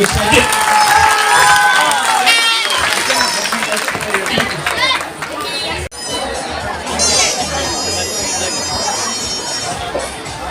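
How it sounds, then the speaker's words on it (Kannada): Audience applause and cheering at Sri Manjunatha Vidyalaya's Kalotsava 2025 school cultural festival. Dense clapping and crowd noise run steadily throughout, mixed with voices and chatter. "ಎಲ್ಲ ಚಪ್ಪಾಳೆ ಅವರಿಗೆ"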